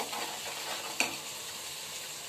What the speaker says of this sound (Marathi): इथं पनीर लगेच बटर सकट टाकते